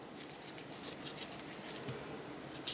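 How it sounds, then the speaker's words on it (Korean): Scissors snipping the fins off a frozen yellow croaker, close and quiet, with soft crisp cuts and light rustling and no voice. "먼저 지느러미를 가위로 잘라줄게요."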